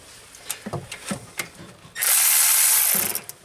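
A tool removes a single screw on a GEHL skid loader: a few close ratcheting clicks, then a loud second-long buzzing whir from a power driver that tapers off.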